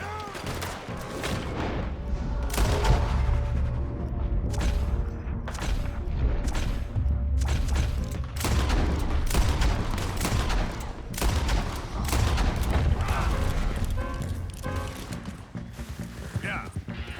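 Repeated gunfire in Red Dead Redemption 2, many loud cracking shots in irregular bursts over galloping hooves and mechanical clatter, with voices shouting throughout.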